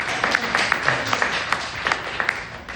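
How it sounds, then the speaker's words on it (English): A small audience at a comedy set in an independent bookstore claps and applauds, a loose patter of hands and sharp individual claps that thin out toward the end, fairly close in a modest room. "You can clap again."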